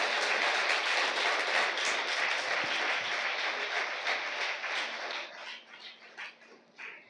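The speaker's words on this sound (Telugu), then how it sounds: "నాకేమో కొంచెమే చప్పట్లు కొట్టారు, మీ అయ్యగారికి ఎక్కువ కొట్టారు" A church congregation claps together in a dense, lively burst of applause that thins out and fades into scattered claps over the last couple of seconds.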